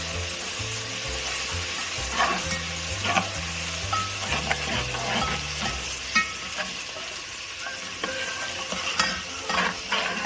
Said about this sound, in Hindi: सिर्फ अदरक लहसुन का पेस्ट ऐड करेंगे। इसको हम भून लेंगे अच्छी तरीके से।